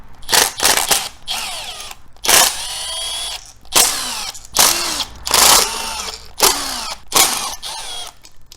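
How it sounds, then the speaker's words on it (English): A die grinder cleans up a motorcycle exhaust, its loud high-pitched whine coming in repeated short bursts with brief pauses between, close and with no talk. "We're just going to clean her up with a little bit of action on this die grinder here."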